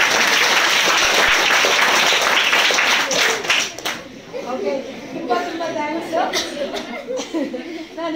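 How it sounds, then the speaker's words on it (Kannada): An audience gives a burst of loud, dense applause for the boys, mixed with chuckles and laughter, then the clapping thins into scattered claps and murmuring voices. "ಎಲ್ಲ ಚಪ್ಪಾಳೆ ಹುಡುಗರಿಗೆ"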